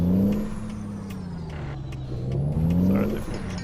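A big rig in American Truck Simulator rumbles along as its engine drone dips and rises through gear shifts, with faint hissing and mechanical whir on top, steady and moderately loud with no voices.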